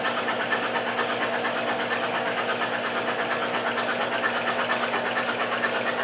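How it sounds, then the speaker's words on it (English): A Toyota 22R four-cylinder engine runs steadily during break-in after a compression test, giving a constant, loud mechanical drone with a fast, even rhythm and no pauses or talk. "we're basically done checking the engine. And we're going to let it run here for an extra minute or so"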